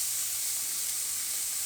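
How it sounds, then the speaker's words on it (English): Pork souvlaki skewers sizzle in a very hot pan, a steady, even hiss of frying with no talking over it. "because it's super hot, we'll get that instant sizzle"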